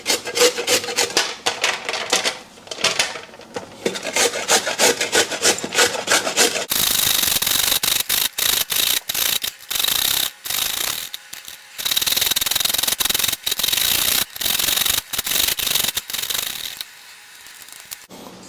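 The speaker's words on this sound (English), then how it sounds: "get a cheese grater and use the coarse grate setting, so the bigger ones. And then use it for your carrots" Carrots are grated by hand on the coarse side of a cheese grater, making steady rasping scrapes in quick, repeated strokes. The scrapes are close and fairly loud and are heard with no speech.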